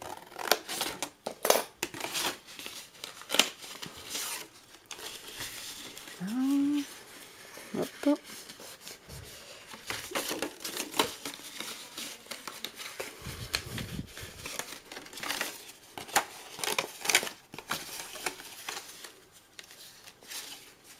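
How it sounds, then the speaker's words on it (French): Chisel cuts into a carved leaf sculpture, giving an irregular string of sharp, dry taps and short scrapes across the passage, with a voice speaking intermittently. "Je vais de nouveau continuer mes entailles. Donc là, je peux aussi mettre des coups de ciseaux à ce niveau-là."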